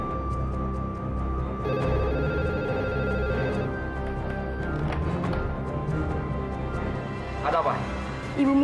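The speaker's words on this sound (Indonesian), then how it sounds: "Ibu Miska telepon lagi, Pak" A telephone rings in an Indonesian office setting, a steady electronic ring running under the ongoing dialogue and background music.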